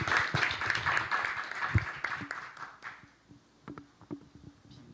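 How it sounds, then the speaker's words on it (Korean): A conference audience at a university presidents' summit claps to welcome a speaker, with brisk applause that fades within about three seconds, followed by scattered shuffling and small knocks in the room. "박수로 환영하도록 하겠습니다"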